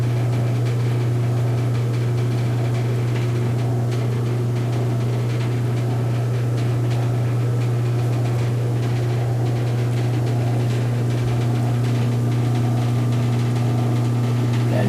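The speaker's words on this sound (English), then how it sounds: "That noise you hear in the background, that's the exhaust fan." A homemade exhaust fan runs steadily in a workshop during fiberglass work, a constant low drone with a strong hum that stays even throughout, with no talk.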